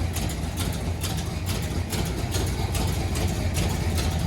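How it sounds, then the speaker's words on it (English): A 1981 Oldsmobile Delta 88 engine running with no torque converter fitted, a loud close rumble that pulses in a steady rhythm of regular beats through the whole stretch, with no voices. "I guess it revs really easy because it doesn't have a torque converter on it either"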